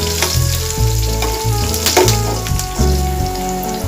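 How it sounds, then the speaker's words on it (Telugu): Green chilies frying in hot oil with cumin seeds for jeera rice, a steady loud sizzle with stirring and occasional clinks of the pan throughout, no voices. "జీలకర్ర బాగా వేగిన తర్వాత పచ్చిమిర్చి వేసుకోవాలి."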